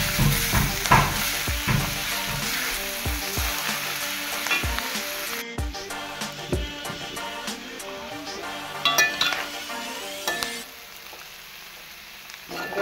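Clam meat and onions stirred and fried in a pan for a Kerala clam roast, with a steady sizzle broken by repeated scraping stirs and occasional utensil clinks, close and fairly loud throughout.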